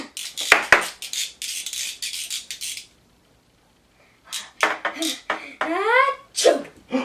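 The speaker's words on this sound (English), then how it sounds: "what do you say when I sneeze?" A person sneezes several times in quick bursts, with a short silent gap before more sneezes and a voice follow, all close and fairly loud.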